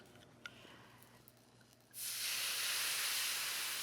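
Wine hits a very hot pan of Cajun chicken and peppers and bursts into a loud, sustained hissing sizzle after a quiet lead-in of faint kitchen clatter.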